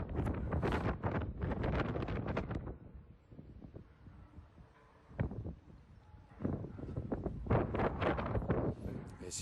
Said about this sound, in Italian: Si sente soffiare anche lo scirocco